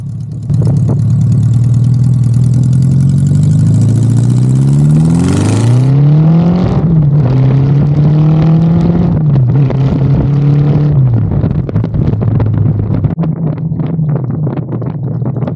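A Honda Goldwing GL1200 motorcycle with a leaking head gasket runs loud and close, idling before the engine climbs through several revs and settles back to a steady, rough idle with no voices.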